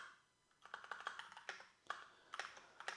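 Typing a search query on a computer keyboard, with quick irregular bursts of clicky keystrokes after a brief quiet start, close and fairly soft.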